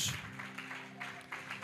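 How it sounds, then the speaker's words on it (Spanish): A church congregation applauds during a lively Spanish-language worship service, the clapping steady and full under a sustained organ or keyboard tone, with swells of cheering rising through the short burst. "Dele un fuerte aplauso al Señor."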